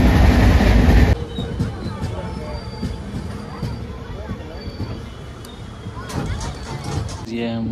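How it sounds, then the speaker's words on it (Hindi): A local passenger train on the Patna to Motihari line, nearing Muzaffarpur, runs at speed: a steady close rumble with rhythmic wheel clatter throughout, preceded by a louder roaring burst in the first second, with faint voices in the background. "ट्रेन काफ़ी स्पीड चली"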